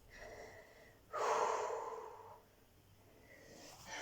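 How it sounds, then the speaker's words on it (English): During a mat exercise class, one slow, deep breath is drawn in and let out, close to the microphone but soft. The inhale swells suddenly and fades gradually against a quiet room, with no talking. "Nice deep breath in, nice deep breath out."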